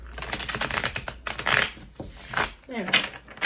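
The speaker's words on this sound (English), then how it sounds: "They're kind of big for me to shuffle long ways." New, stiff, large tarot cards being shuffled by hand, giving irregular riffling and soft slapping bursts close up, with brief quiet gaps between passes.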